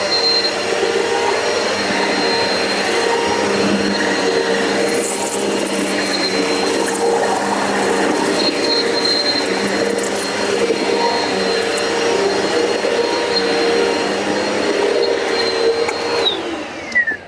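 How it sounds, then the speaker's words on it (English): A Eureka Powerspeed NEU280 upright vacuum cleaner runs steadily on carpet with a constant motor whine and rushing airflow, rising slightly as it is pushed back and forth. "turn it on, push it back and forth, and vacuum the area."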